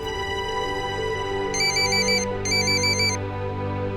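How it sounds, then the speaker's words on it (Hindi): A telephone rings with two bursts of electronic trilling, loud and close, over a steady tonal background bed. "अब ये फोन की घंटी तो बजती रहेगी।"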